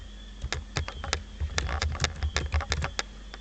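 Quick bursts of typing on a computer keyboard, irregular clusters of sharp key clicks at close range with no talking.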